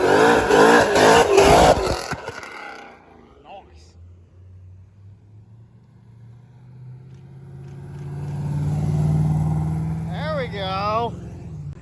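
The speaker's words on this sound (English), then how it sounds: "Good old-fashioned route stop trailer burnout." Engine of a Duster revving hard during a drag-strip trailer burnout: loud broadband roar at first, then a low rumbling idle that swells to a long drone, with a voice speaking briefly over it near the end.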